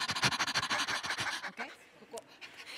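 Workshop participants at a film festival voice-acting session imitate a panting dog with quick, rhythmic breathy huffs from several people together, which thin out and fade after about a second and a half.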